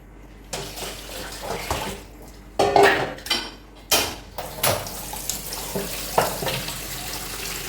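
Tap water runs into a sink for washing, with repeated splashes and the clatter of dishes and pots knocking together close by, in uneven bursts and no talking.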